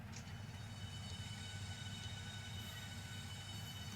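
A Nova 1 train in Train Simulator rolls along steadily, a constant low rumble of wheels and motor with faint high tonal whine, unbroken and moderately quiet with no talk.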